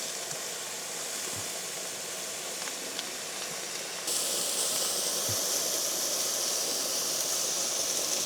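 A steak cooks on a camp stove while desert truck camping in Utah, giving a steady broadband sizzle that jumps louder midway and then holds a constant close hiss, with a couple of soft knocks.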